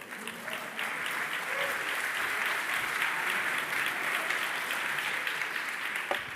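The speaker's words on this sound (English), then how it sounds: "Round of applause" Talk audience breaks into a round of applause for a prize winner, a full, sustained crowd clapping that holds at an even level for several seconds.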